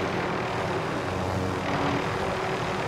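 Aircraft rotor and engine drone from a helicopter flying in Call of Duty Warzone, a steady, loud, dense roar that holds level for the whole stretch with no pauses and no talk over it.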